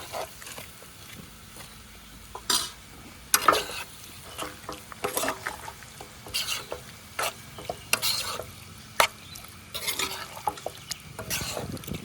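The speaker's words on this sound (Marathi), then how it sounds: "कलेजी ॲड करूया. मस्त मसाल्यात मिक्स करून घेऊया." Marinated chicken liver is stirred into frying masala in a pan, with a continuous low sizzle broken by frequent scraping and clattering spoon strokes against the metal.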